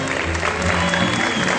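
A crowd at a farewell celebration for a festival queen and her maids of honour claps steadily and loudly, a dense wash of applause filling the space without pause.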